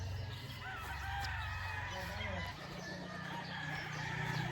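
Chickens and roosters cluck and crow in a noisy barn at a farm in Barangay Suplang, Laguna, with a low steady hum and faint human voices in the background.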